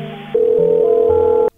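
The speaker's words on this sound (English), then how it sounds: "my phone just beeped" A mobile phone gives a loud, steady electronic tone lasting just over a second, close and clear, which shifts pitch partway through before cutting off abruptly.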